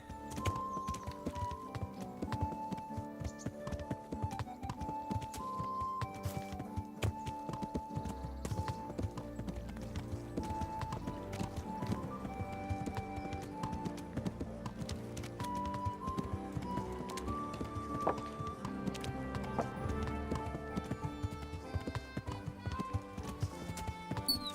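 A horse's hooves clip-clop steadily in the video game Kingdom Come: Deliverance, an even rhythmic stream of taps under medieval-style music playing throughout.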